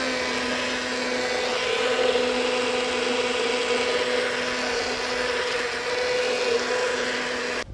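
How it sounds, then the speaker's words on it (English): Immersion blender whirring steadily in a pot of starch-thickened cream puff filling, a loud continuous motor drone with a constant pitch that cuts off abruptly at the end. "which is why I hit it with the immersion blender"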